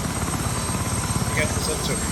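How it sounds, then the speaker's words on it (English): A helicopter passing near Eisenhower Park, a loud continuous rotor drone with steady low thumping throughout, while someone talks over it. "That's my favorite helicopter we just passed."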